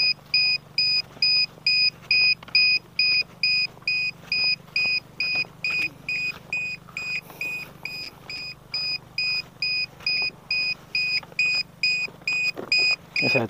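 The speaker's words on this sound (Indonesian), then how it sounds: "Ini saya cabut dulu buzzernya, suaranya soalnya kenceng." On the ground after a long flight, the buzzer of an RC airplane with a 180 cm wingspan beeps loudly and repeatedly in a steady, fast on-off rhythm. Faint background noise sits underneath the beeps.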